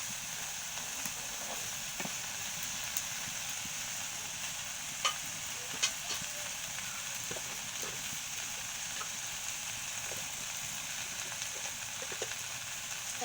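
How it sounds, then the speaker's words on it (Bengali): Okra (bhindi) frying in a pan sizzles steadily while being gently stirred, a constant soft hiss broken by occasional light scrapes and taps from the utensil, close by and moderately quiet, with no talking. "হালকা নেড়ে চেড়ে নিব।"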